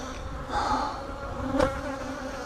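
Honey bees buzzing around a beehive during an inspection, a steady close drone with shifting pitch and a brief louder swell as one passes near.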